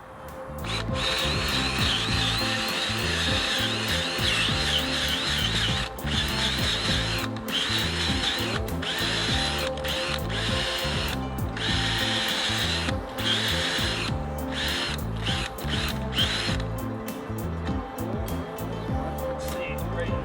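A Power Planter garden auger on an 18 volt Ryobi drill bores into dry soil in slow mode, a steady motor whine with gritty scraping and brief stops and restarts throughout.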